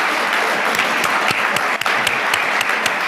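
Steady applause from an audience honoring senior speakers at a school assembly, dense even clapping with a few sharper individual claps standing out, filling the room without speech.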